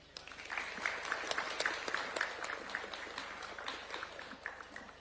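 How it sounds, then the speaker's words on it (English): Audience applause at a trophy ceremony, a faint, distant crowd clapping in a steady patter of many hands, sustained without a clear peak. "Another round of applause for Mr. Kuria Mushiri."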